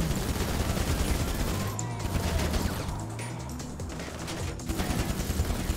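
Shotgun and other weapons firing in a heist video game: dense, continuous bursts of gunfire and crashing action throughout, loud and busy, with players' voices mixed in.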